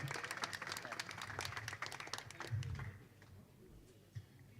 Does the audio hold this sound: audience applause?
yes